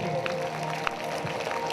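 A congregation at a Hindi-language church prayer gathering claps together in a brief burst of crowd applause, with a murmur of voices mixed in.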